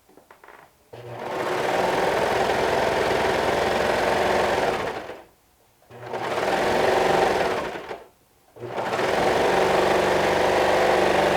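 A sewing machine stitches sleeves onto a shirt in three long, steady runs of whirring motor hum, separated by short pauses, close and loud with no talking.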